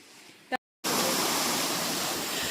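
A small waterfall near a village home, a loud, steady broadband rush of falling water close by, preceded by a quieter stretch and a brief silent gap before the roar fills in.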